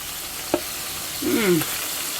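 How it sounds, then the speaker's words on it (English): Pork browning in a pan sizzles steadily with a faint hiss. A utensil clinks once and the meat is scraped and turned, briefly louder, close by and with no voices. "So it's time to turn the pork. Of course, it's browning."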